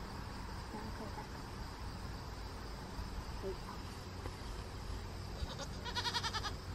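Farm goats bleat in a few short calls near the end, against a quiet outdoor background of insects and faint farmyard noise, with a person nearby.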